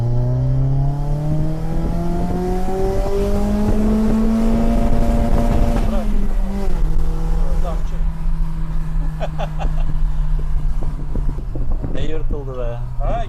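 A nearby BMW E30 with a swapped M44 engine revs up in rising pitch, holds, then drops back to a steady idle, with people talking over it.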